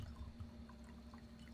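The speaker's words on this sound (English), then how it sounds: "I'm going to do a little pour here." Orange wine poured into a glass, a soft, continuous trickle of liquid up close, quiet and steady for a moment with faint splashing and no talking.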